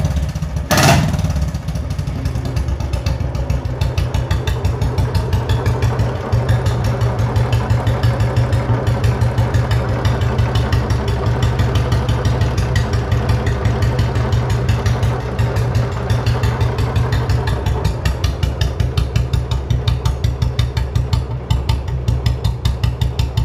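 A 2015 Royal Enfield Bullet motorcycle idles close by, its steady low thumping exhaust running continuously after a brief start-up burst, with no talking.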